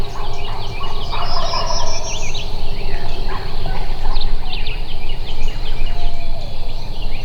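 A wild turkey gobbles loudly nearby, its rattling call repeating over a background of other birds chirping and calling.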